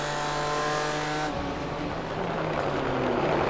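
A BMW GT3 M4 race car in iRacing drones past with a steady high engine whine, then its pitch drops as it passes and another engine note climbs behind it, loud and continuous.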